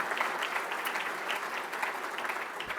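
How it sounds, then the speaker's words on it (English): A round of applause at a talk by Under Armour's CEO, steady dense clapping from a crowd, somewhat distant and even throughout. "I'd like to give a round of applause to them."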